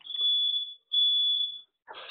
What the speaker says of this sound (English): That's a fire alarm, bear with me.